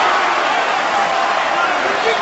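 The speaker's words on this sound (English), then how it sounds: "This crowd is going nuts." Steady, loud crowd roar in the arena at the Poirier vs Pettis MMA bout, a continuous wall of cheering and shouting that holds at the same level throughout.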